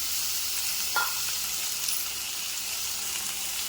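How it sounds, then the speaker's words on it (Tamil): Garlic and tomatoes sautéing in a pan, a dense steady sizzle close up with a faint clink of a stirring utensil near the start, no voices. "ஆட் பண்ணிவிட்டு அதையும் நல்லா வதக்கலாம்"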